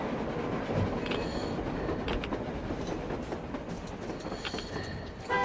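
Train rumbling past in the video game Metro Exodus, a steady loud roar of wheels and carriages with rhythmic clickety-clack and occasional metallic squeals, continuous for several seconds.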